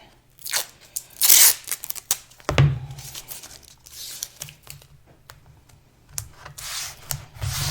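Masking tape is torn and pressed down to fix watercolor paper to a board, giving irregular crunchy rips and rubbing bursts, some close and sharp, separated by short quiet gaps.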